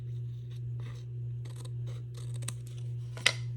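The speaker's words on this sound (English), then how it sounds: "Get your scissors or your snips, whichever you have, and just trim it off." Scissors or snips trim off excess material on a sailboat project, a series of short close snips and scrapes over a steady low electrical hum, with no talk.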